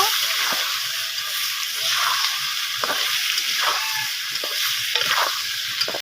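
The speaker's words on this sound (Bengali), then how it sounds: "এবার আলুটা লাল লাল করে ভেজে নেব।" Potato pieces frying in oil with turmeric, a bright steady sizzle with rhythmic stirring scrapes every second or so, close and fairly loud, with no speech.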